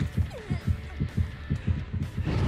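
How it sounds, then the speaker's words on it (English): Repeated heartbeat thumps in a survival horror video game, a steady low double-pulse rhythm of about two beats per second, loud and close over faint game ambience. "Oh, so many heartbeats."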